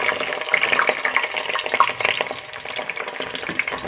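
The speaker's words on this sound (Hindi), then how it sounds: "प्याज हमने कट कर लिया, अब इसे हम ऑयल में ऐड करेंगे।" Chopped onions hit hot oil in a pan for a mixed sabzi of methi, potato, carrot and peas, giving a steady crackling sizzle with brief spattering bursts, close and moderately loud with no talking.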